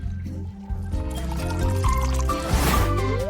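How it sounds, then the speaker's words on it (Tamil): Liquid gelatin tinted with food colouring pours steadily into a hole in a cake, a close, continuous gurgling trickle that thickens toward the end. "கேக்கில் உள்ள துளையின் உள்ளே பெறப்பட்ட திரவம் ஊற்ற வேண்டும்"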